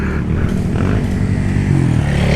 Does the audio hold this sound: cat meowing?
no